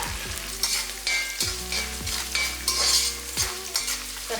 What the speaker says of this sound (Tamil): எல்லாம் நல்லா ஈவனாக நல்லா பொரிஞ்சிச்சு.